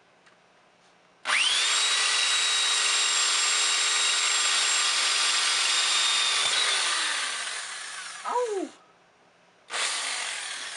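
A power drill, nearly overheating, whines loudly at a steady pitch for several seconds, slows and stops, then a short yelp of a voice before the drill starts again.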